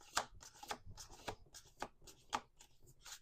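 A deck of cards is shuffled over and over during a card reading, giving a run of quick, papery riffling bursts in an irregular rhythm. It sounds close and fairly quiet, with no talking.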